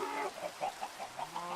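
Chickens in the video game Minecraft give quick, repeated clucks, a short run of evenly spaced soft notes heard near and moderately loud, with no talking.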